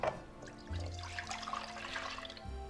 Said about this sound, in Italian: Cominciamo col versare il latte,